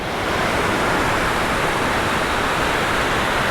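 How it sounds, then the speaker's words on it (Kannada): A big waterfall in Spiti Valley, along a mountain road, roars as a loud, steady broadband rush of falling water, close and unbroken, with no voices over it. "ಇಲ್ಲಿ ನೋಡಿ, ಇದು ದೊಡ್ಡ ಫಾಲ್ಸು"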